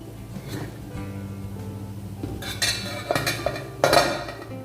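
A steamer pot lid is lifted in a kitchen, giving metallic clinks and clatters that build toward a louder rattling clank near the end, close and with no talk.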